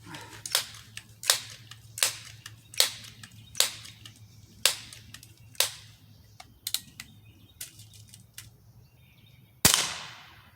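Crosman 1377 air pistol firing pellets at a target cup out to 20 yards: a series of about a dozen sharp, snappy pops at irregular intervals, fairly close, with a louder crack near the end and quiet gaps between.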